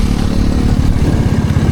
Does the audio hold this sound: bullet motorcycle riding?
yes